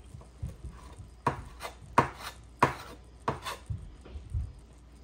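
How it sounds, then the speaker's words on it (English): Fresh sage being chopped on a cutting board: a series of sharp knife thunks at an uneven rhythm, close and fairly quiet, with no talking. "just gonna chop this all up and throw it in"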